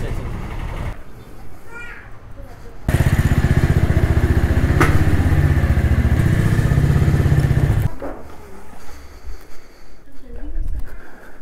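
A KTM motorcycle engine runs loud and close for several seconds, rumbling steadily before cutting off, with quieter street sounds and a voice before and after.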